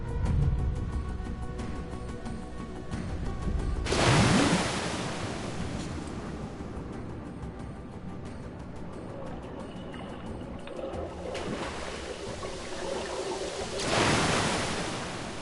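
Rushing river water in Metro: Last Light Redux, a loud continuous roar with heavy surging crashes near the start and again toward the end, churning on with no speech.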